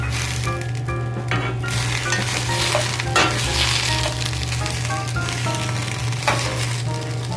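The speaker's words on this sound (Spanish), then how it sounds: "ya se empezó a tatemar aquí esto, el jitomate, la cebolla, el ajo" Tomato, onion and garlic frying in a pan for chicharrón prensado quesadilla filling, a steady close sizzle with a low constant hum beneath and occasional light clinks of a utensil stirring.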